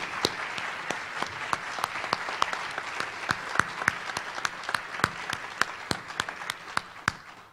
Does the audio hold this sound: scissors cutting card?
no